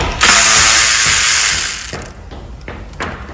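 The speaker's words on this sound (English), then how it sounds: "You can loosen your 10 millimeter bolt down here." A ratchet wrench loosens a 10 mm bolt on a 2012 Nissan Murano 3.5 V6 engine, giving a loud, close, continuous ratcheting buzz that fades out, followed by a few lighter clicks.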